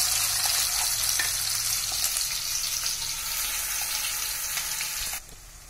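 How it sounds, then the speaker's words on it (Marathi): Ground onion-garlic masala paste frying in hot oil for a Khandeshi dhaba-style shev bhaji, a steady dense sizzle with faint stirring scrapes throughout, cutting down abruptly near the end. "आता हा वाटून घेतलेला मसाला आपण त्याच्यात घालूया आणि चांगला तेल सुटेपर्यंत आपल्याला तो भाजून घ्यायचा आहे"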